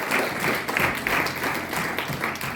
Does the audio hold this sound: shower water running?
no